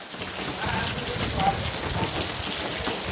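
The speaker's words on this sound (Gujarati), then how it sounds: "થોડોક વરસાદ ઓછો થયો છે" Steady rain falling outdoors in the countryside, a continuous dense hiss of drops at even loudness with no voices, easing slightly in intensity.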